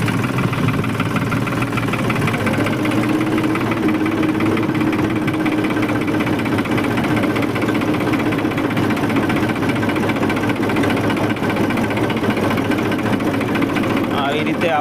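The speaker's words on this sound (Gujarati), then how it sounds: "આવી રીતે આપણે ટ્રેક્ટર ચલાવી શકીએ છીએ." A tractor engine runs in third gear with a steady, loud, close mechanical drone and knocking throb that holds throughout, while a person talks over it.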